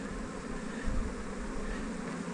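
Honeybees buzzing around an open hive over the brood frames, a dense, steady drone of many wings, close and continuous with no talking.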